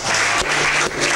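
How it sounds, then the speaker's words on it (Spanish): Live studio audience on a Lima late-night talk show applauds for a guest, a dense, steady wash of clapping with a brief dip partway through and no talk over it. "Un aplauso para Jorge, que nos ha hecho reír esta noche"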